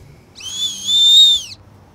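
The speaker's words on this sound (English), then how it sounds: "You know I'm going to have to test this whistle." Emergency whistle from a Blaze 360 plasma lighter kit, blown once in a loud, shrill, high blast lasting about a second, close and alone against quiet background.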